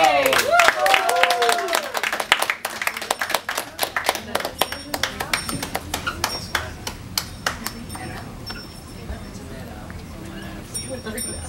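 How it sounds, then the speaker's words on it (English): A round of applause from children at a classroom-style career question session, with scattered claps and cheers that start dense and loud, then thin out into sparse individual claps while voices chatter underneath. "Round of applause!"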